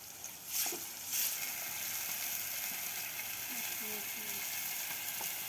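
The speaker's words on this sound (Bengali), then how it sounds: "পেঁয়াজ কুচি দিয়ে দিলাম কাঁচামরিচ কুচি সব রকমের মশলা বাটা দিয়ে দিলাম" Chopped onion, green chili and ground spice paste sizzle in a pan over a village clay stove, a steady close frying hiss with a couple of stirring scrapes near the start.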